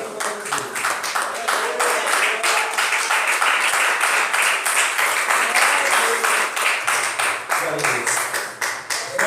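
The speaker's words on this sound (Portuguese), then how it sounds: "A igreja pode bater palmas" A church congregation claps together in a steady, fast rhythm that stays even and loud throughout, with voices mixed faintly underneath.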